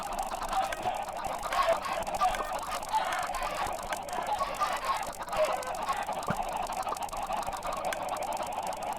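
A crowd of Minecraft chickens clucks and squawks nonstop in the video game, overlapping calls at an even, moderate volume with no voices.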